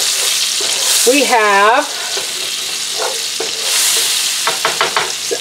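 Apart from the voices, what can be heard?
dredged stew beef frying in sunflower oil and butter in a skillet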